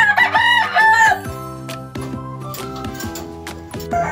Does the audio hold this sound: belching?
no